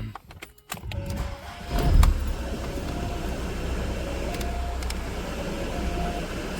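A 1997 VW Passat cranks after a few clicks and jingling keys, catches and settles into a steady, fairly quiet running idle with faint chimes on top.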